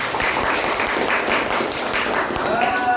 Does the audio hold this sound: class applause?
yes